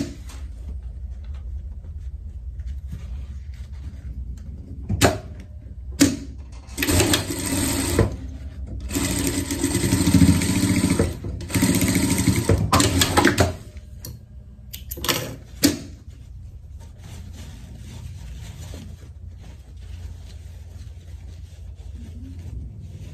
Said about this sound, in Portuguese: Agora vamos fechar aqui, tá? Costura por costura aqui.